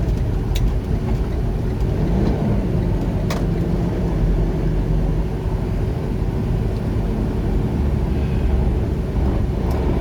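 Heavy trucks idle and rumble steadily at a busy Pilot truck stop, a continuous low engine drone with occasional faint clanks and no talk.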